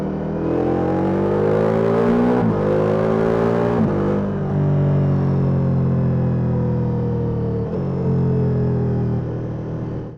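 Engine of a Ducati Multistrada V4S motorcycle with 170 horsepower, heard on a test ride. A loud, steady drone holds, with sharp breaks near the start and middle as gears change, each followed by a falling pitch.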